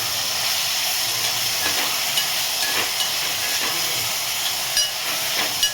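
Paneer rice sautéed over a high gas flame gives a loud, continuous hissing sizzle close up, with occasional light scrapes and taps of a spatula against the pan and no talk.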